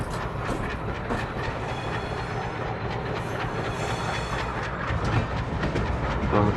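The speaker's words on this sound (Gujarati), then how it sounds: "આપણી ટ્રેન સ્ટાર્ટ થઈ ગઈ છે WDM3D સાથે" A WDM3D diesel locomotive pulls a train in an Indian railway video game: steady heavy rumble with rhythmic wheel clatter and light hiss, continuous throughout and swelling slightly near the end.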